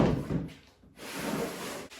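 A new wooden door slab is laid on top of the old one for a DIY install, giving a dull thud and a scrape of wood on wood, close and moderately loud, then a short knock.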